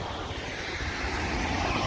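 An airplane flying over Dead End Beach near Montego Bay, Jamaica, a steady, broad engine roar that holds level and grows slightly louder across the moment, without talk.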